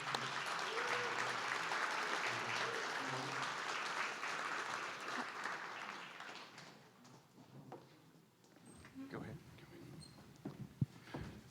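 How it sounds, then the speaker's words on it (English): Warm audience applause for panelists and a moderator at a democracy summit in Dayton, dense clapping for about six seconds that fades into scattered claps, stray taps and murmurs. "Please clap it up for our panelist and moderator."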